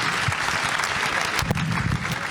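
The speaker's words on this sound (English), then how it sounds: "just a round of applause for our panelists again." A crowd at a debate panel applauds the panelists, giving a brief, full burst of dense clapping that carries straight through without pause.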